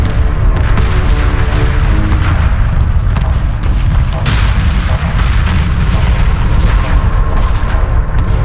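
Continuous rumbling explosions and booms from space combat in the video game Homeworld 2 pile up relentlessly, loud and dense, with no pause throughout.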